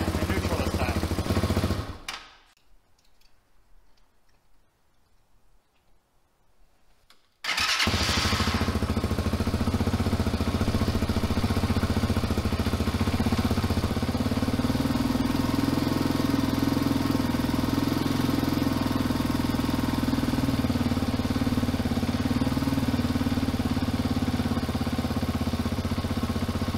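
A TaoTao TBR7 dirt bike with a rejetted stock carburetor cuts out briefly, then starts and settles into a steady, loud, close idle that continues without interruption.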